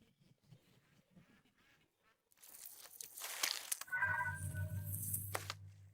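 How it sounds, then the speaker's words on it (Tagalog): Cartoon ducks quack in a pond scene, a loud run of repeated nasal quacks and honks that starts after a couple of quieter seconds and carries to the end. "Natagpuan ni Daddy Pig ang lawa ng mga pato."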